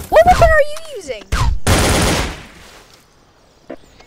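Weapon fire in Garry's Mod, a short burst of gunshots heard right after a voice, followed by a fading tail and a faint click near the end.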